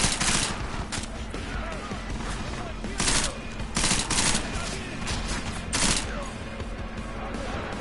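Bursts of gunfire in the game Deus Ex, rapid volleys of shots repeating every second or so over a constant loud background, with faint talk underneath.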